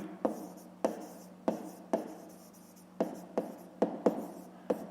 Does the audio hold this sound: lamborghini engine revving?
no